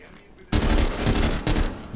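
Gunfire in Rainbow Six Siege: a sudden loud burst of rapid shots from a close weapon after a quiet half second, with a short break before a second burst of shots.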